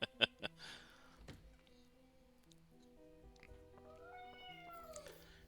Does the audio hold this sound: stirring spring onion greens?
no